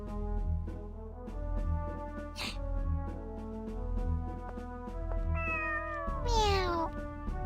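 A cat meows over steady background music from a role-playing game, one short rising cry near the middle and a longer sliding meow toward the end, both clear and fairly close.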